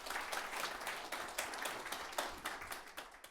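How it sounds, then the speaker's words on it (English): Audience applause at the Framtidsdagen 2024 event: a steady patter of many hands clapping in a room, moderately distant, with individual claps poking out now and then. "Applause."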